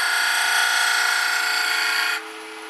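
A gouge cuts wood on a lathe, a steady close whirring, scraping hiss that lasts about two seconds and then drops away, leaving the quieter hum of the spinning lathe.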